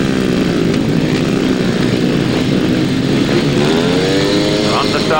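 Grasstrack racing motorcycle engines revving loudly together at the tapes for a race start, a dense continuous roar with rising pitch, speech faintly mixed in.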